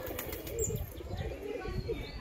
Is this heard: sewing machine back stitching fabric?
no